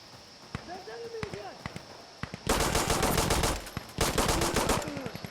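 Pistol gunfire in Insurgency Sandstorm during a pistol-only match, two rapid bursts of close, loud shots separated by scattered single shots and footsteps, with a player talking.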